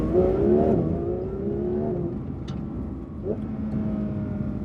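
A Porsche 992 GT3 engine revs hard and close in manual mode, pitch climbing then dropping as gears short-shift, with a brief higher whir between pulls.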